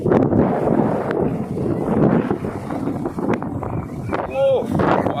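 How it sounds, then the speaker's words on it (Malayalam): Strong wind buffets the microphone in an open sunflower field, a heavy rumbling roar that gusts throughout, with a person talking at moments over it. "ഭയങ്കര കാറ്റ്."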